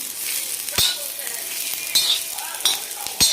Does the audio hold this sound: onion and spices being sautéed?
yes